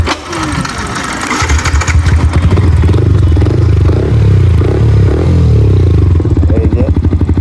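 A motorcycle engine runs close by, loud and steady with a rhythmic mechanical chug and rattle throughout.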